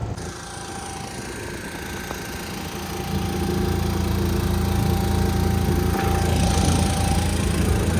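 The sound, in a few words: motor boat engine on the river at Omkareshwar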